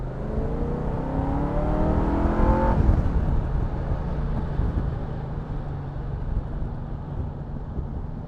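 A small-block V8 engine in an AK Cobra drones as it drives, pitch climbing until a sudden gear change, then a steady rumble mixed with wind noise.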